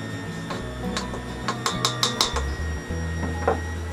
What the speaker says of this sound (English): You can use a spatula to give that a good mix around.